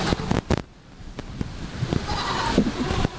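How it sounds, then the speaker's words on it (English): Frightened goats bleat in a storm-damaged farm pen after a hurricane, several short cries over a rushing, surf-like background, fairly close. "The goats are freaked,"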